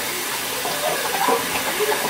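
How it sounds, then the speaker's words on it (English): Thinly sliced cheesesteak meat sizzles in a hot pan, a steady broadband hiss close up with faint voices in the background. "Let me just show you guys how this is sauteing"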